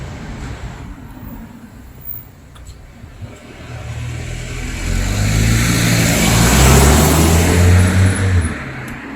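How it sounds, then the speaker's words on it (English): A road vehicle approaches and passes close by, its engine and tyre roar swelling to a loud peak midway and then fading, heard over faint outdoor background with no talking. "let this vehicle pass by"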